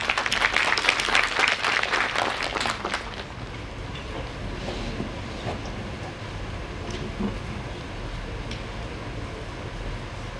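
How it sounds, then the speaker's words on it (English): An audience at an IEEE conference inauguration ceremony applauds the Director, with dense clapping for about three seconds before it fades into a quiet hall murmur. "Please give a big round of applause for Director,"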